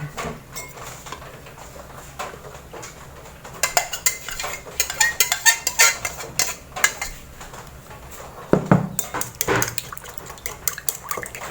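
Eggs beaten with a utensil in a cup or dish for a Thai steamed egg custard, giving quick clinking and tapping strokes against the bowl that grow busier midway, close and fairly quiet, with no talking.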